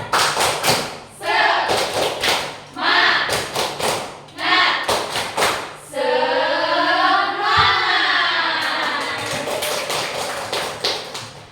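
A classroom of young pupils performs a rhythmic cheer, clapping in sharp, patterned bursts separated by short pauses, then breaking into loud sung chanting with claps continuing underneath.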